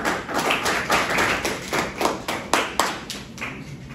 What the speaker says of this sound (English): Once again, clapping.